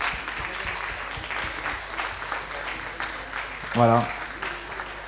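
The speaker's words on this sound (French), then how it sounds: "je voudrais qu'on les applaudisse" Applause from a press-conference audience for volunteer track marshals, steady clapping running under a man's speech, with a short spoken word near the end.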